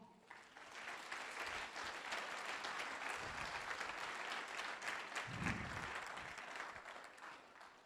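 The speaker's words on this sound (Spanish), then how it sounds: "Den un aplauso al Señor" A church congregation applauds in a sustained wash of clapping that holds steady throughout, fairly distant with a few brief low thumps.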